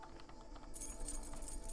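Keys jangle in the video game The Talos Principle, a bright metallic rattle that starts suddenly and rings on for about a second over quiet background sound.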